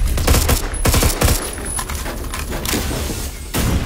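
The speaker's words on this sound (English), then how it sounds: "This guy's using a Dragunov SVDS." Rapid gunfire bursts from a Dragunov SVDS sniper rifle in the Phantom Forces shooter game, several sharp loud cracks in quick succession early on, then scattered fainter shots and clatter.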